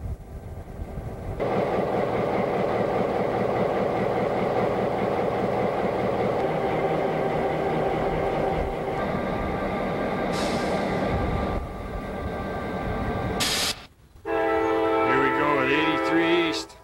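A CSX freight train led by two antique F7 diesel locomotives passes in Ohio, a loud, sustained engine drone and rolling rumble with tonal horn-like bands near the end and a brief drop before resuming.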